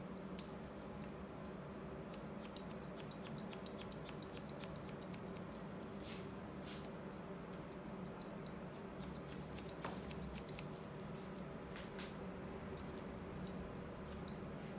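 Barber's scissors snip through a man's hair during a layered cut, a faint series of quick metallic clicks in an irregular rhythm over quiet room tone with no talking.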